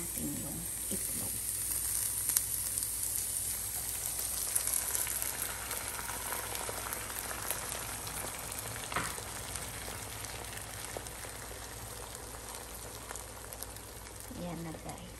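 Egg frying in a pan with onion and beans for an omelette, a steady close sizzle with faint crackle running continuously throughout, alone without talk.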